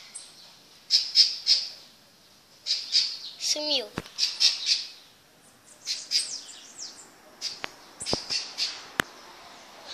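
Sharp, high bird squawks and chirps come in repeated bursts, fairly close, with a brief spoken word and a few clicks in between.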